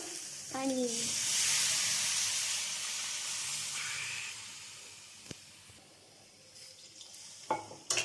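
Water poured into a hot kadai of oil-free cooked chicken bursts into a loud steaming hiss that swells, then slowly fades, with a few sharp clanks of utensils near the end.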